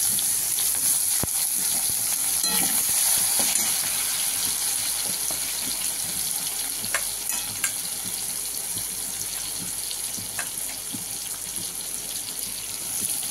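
Chopped onions sizzle in hot oil in a pan with a steady, close hiss lasting the full stretch, broken by occasional scraping and clinking as they are stirred, and no talking.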